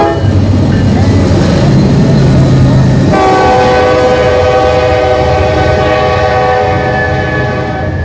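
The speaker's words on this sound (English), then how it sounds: "NS? Another coal train? No, it's a manifest." A Norfolk Southern manifest freight with a Dash 9 lead locomotive roars past up close, its horn blaring in a sustained chord over the heavy rumble and rattle of the passing cars.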